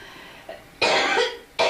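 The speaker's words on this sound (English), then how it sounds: "Excuse me, coughing." An elderly woman coughs in two sharp, close bursts after a faint throat sound, with quiet room tone between them.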